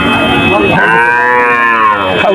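A calf at Betaga cattle market lets out one long, loud, close moo with a rising, drawn-out bellow that fills the moment, with no talk over it.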